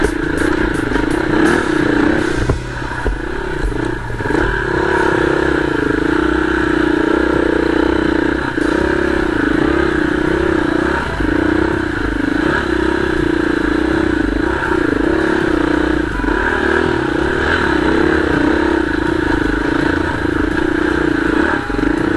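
A motorcycle grinds steadily up a steep trail on Lover's Leap, the engine held at a strained, droning pitch by a slipping clutch, loud and close throughout, with faint clatter from the bike over the ground.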